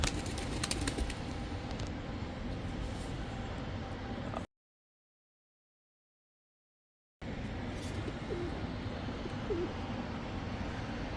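Tumbler pigeons flying overhead outdoors, with soft cooing and faint wingbeats under steady ambient noise, broken by a few seconds of silence midway.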